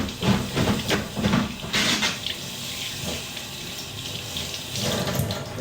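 Water running from a sink tap in a hand-washing setting, a steady close splashing hiss with a few louder surges of flow at the start and near the end.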